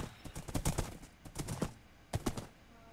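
A horse in the video game Minecraft clip-clops in uneven bursts of sharp hoof taps, moderately close, with brief pauses between clusters and no voices.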